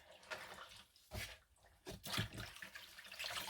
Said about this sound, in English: fill my tub here with water, just plain hot water